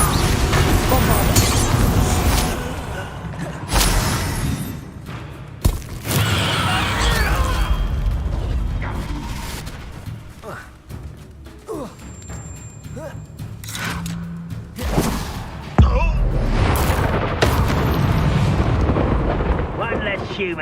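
Bombarda explosion spell in Hogwarts Legacy, several deep blasts and rumbling booms over continuous game effects and background music, with a voice speaking at times.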